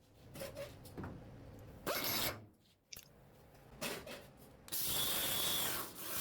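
Grinder dressing down welds on new auto restoration body parts, heard as several bursts of harsh, close grinding and rasping with brief pauses between passes.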